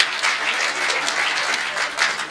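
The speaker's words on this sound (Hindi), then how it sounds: "एक बार पूरा सदन जोरदार तालियां" Steady applause from an audience at a Hindi comic poetry gathering, a dense wash of clapping lasting a couple of seconds without pause.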